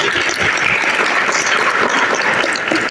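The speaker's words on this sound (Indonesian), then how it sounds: "tepuk tangan untuk abang kita" An audience claps steadily and loudly at a Maulid Nabi Muhammad commemoration event in Bukittinggi, a dense, continuous wash of applause for about three seconds.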